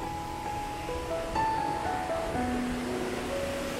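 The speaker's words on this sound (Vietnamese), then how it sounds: "Thác nước bữa nay đẹp" Gia Long waterfall in Đắk Nông, Vietnam, heard as a steady broadband roar of rushing water, with faint melodic tones playing over it.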